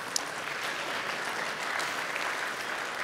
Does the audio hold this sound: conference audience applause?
yes